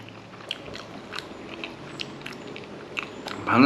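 A small, short Sri Lankan banana being bitten and chewed close up, with soft repeated mastication clicks spread over a few seconds against quiet outdoor background noise.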